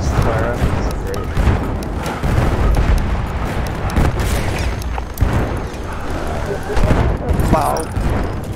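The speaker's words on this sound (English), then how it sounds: "They're getting so many rockets to fire." Rockets firing in a Battlefield 1 multiplayer match: a loud, chaotic run of booms and blasts rolls on without a break, mixed with gunfire, while voices talk over the din.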